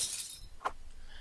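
Glass wall in Neon Chrome smashes when punched, a faint sharp crash with a brief bright tinkle of breaking shards, heard alone and quiet.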